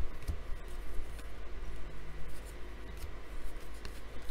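Baseball trading cards from 2019 Donruss retail packs being flipped through by hand, a quiet run of soft papery slaps and rubs at a quick, uneven pace, close by.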